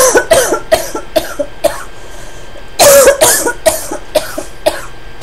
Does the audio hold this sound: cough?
yes